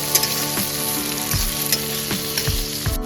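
Onion and chopped tomato fry in a pan for mutton-fat ghugni, giving a loud, continuous sizzle broken by several thuds and scrapes of a spatula stirring at a steady pace.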